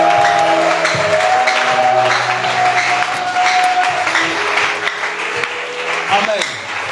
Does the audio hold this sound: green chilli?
no